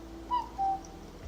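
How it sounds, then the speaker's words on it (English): A cuckoo calls twice nearby, two clear hooting notes in quick succession against a quiet indoor hum. "Fucking cuckoo. That makes me laugh hearing that."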